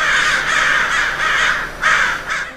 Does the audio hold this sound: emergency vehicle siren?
no